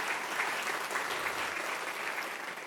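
An audience at a charity talk breaks into applause, an even, close wash of clapping that runs throughout and fades slightly toward the end, with no voices over it.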